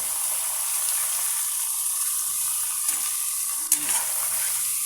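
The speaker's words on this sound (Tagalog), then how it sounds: "Gigisa din natin ito mga sir." Chicken pieces sizzle steadily in a hot pan while being sautéed for sinigang, a constant close frying hiss with a couple of brief stirring clinks near the end.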